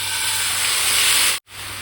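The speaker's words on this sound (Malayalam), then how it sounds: "മീൻ വറുത്തിട്ടുള്ള അതേ എണ്ണയിലേക്ക് നമ്മൾ അരച്ച് വെച്ചിട്ടുള്ള മസാല ആഡ് ചെയ്ത് കൊടുക്കാം." Ground masala paste hits the hot oil left from frying kingfish and sends up a loud, continuous hissing sizzle that cuts off abruptly near the end, then briefly resumes.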